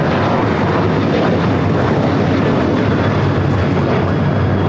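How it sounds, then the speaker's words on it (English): An American Airlines Boeing 737-800 takes off for Phoenix at LAX with a loud, continuous, rumbling jet roar, broadband and steady throughout with no voices. "This is American Airlines 1994 taking off to Phoenix on the 737-800"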